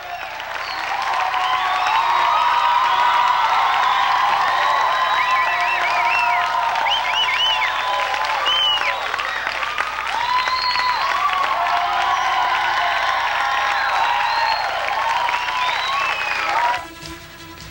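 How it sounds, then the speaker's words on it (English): An enthusiastic crowd cheers and applauds at Adam West's reunion with the Batmobile: loud, sustained clapping with whoops and shouts running for about sixteen seconds before cutting off abruptly. "an enthusiastic crowd was on hand as Adam West and the Batmobile were reunited"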